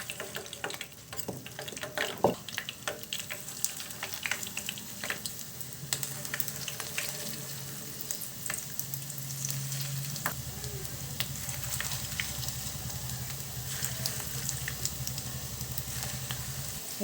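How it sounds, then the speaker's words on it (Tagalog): Pork meatballs fry in cooking oil for sweet and sour meatballs, a steady close sizzle with occasional light clatter throughout. "Magprito na tayo."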